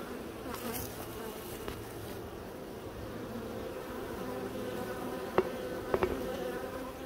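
Honeybees bringing pollen into a hive entrance hum and buzz in a close, continuous drone, with a few sharper ticks and bumps near the end.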